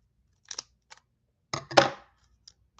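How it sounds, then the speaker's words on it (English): Scissors snipping through trading card packaging, a couple of quick small cuts followed by a longer crisp crunching snip, close and clear with nothing else around. "Let me snip this."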